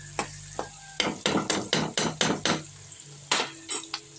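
Metal spoon scraping and clacking in a pan as chopped onions and green chillies fry, a steady run of about a dozen close, rhythmic stirring strokes over a faint sizzle, with no voices.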